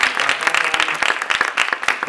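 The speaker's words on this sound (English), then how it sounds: "another round of applause for Jess." Audience applause at an environmental law conference session, a round of many hands clapping in a dense, steady patter that fills the room, with no talk over it.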